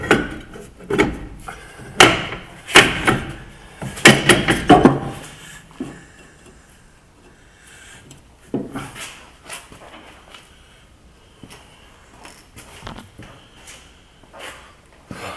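Brake drum being refitted on a 2010 Peugeot Expert van during handbrake repair: a burst of loud metallic knocks, scrapes and clunks in the first five seconds, then quieter intermittent rubbing and tapping close by.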